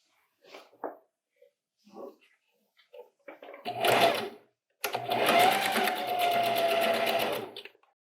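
A sewing machine runs two steady bursts stitching a 5/8-inch seam along the fabric of a filled scrunchie, preceded by a few soft handling knocks and faint rustles.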